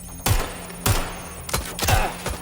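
Gunfire in the video game Watch Dogs Legion: about five sharp, booming shot bursts spaced irregularly over a few seconds, loud and close against a steady background bed.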